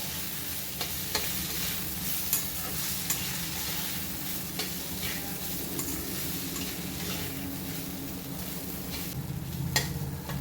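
Poha being stirred and sautéed in a pan, a continuous close sizzle with scraping strokes of the spoon and occasional light taps against the pan, no voices.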